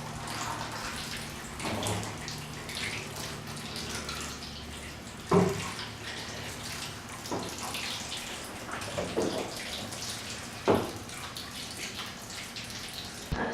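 Running water rinses a gum bichromate print at a sink, a steady hissing flow with splashes and a few sharper knocks, close and moderately quiet with no voices.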